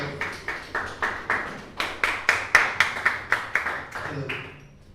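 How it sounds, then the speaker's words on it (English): At an agricultural pitch event, a small audience claps in a sparse, rhythmic pattern. Roughly a dozen distinct, sharp hand claps sound at a steady beat, fairly close, with brief pauses between them. "please give me a round of applause"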